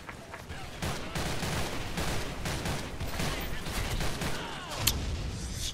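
Bursts of AK-103 rifle fire with an EOTech sight in the shooter game S.K.I.L.L., rapid repeated shots running almost continuously at close range and loud, with faint talk mixed in.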